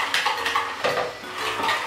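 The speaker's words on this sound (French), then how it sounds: "On mélange du coup encore une fois" Chocolate cake batter with butter being stirred in a bowl, a spoon or whisk scraping and clinking against the bowl in short irregular strokes, fairly quiet and close with no talk.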